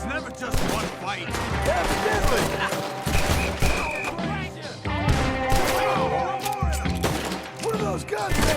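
Gunfire from a shootout in Red Dead Redemption 2, with repeated loud shots and bursts crackling over a busy mix of game music, effects and voices, continuing throughout.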